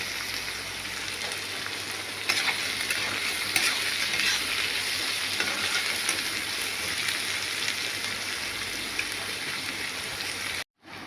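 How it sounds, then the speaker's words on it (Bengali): Onions fry in a pan for a Bengali katla fish curry, giving a steady, dense sizzle that runs unbroken at moderate volume for about eleven seconds. It cuts off briefly near the end, and no one speaks. "পেঁয়াজ দিয়েছি, পেঁয়াজটাকে ভাজছি ভালো করে।"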